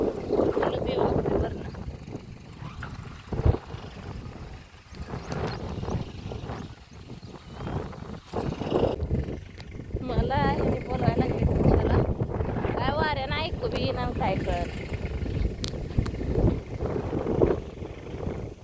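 Strong wind buffets the microphone in an open farm field at maize sowing time, a constant rough roar with gusting surges, while people talk loudly throughout.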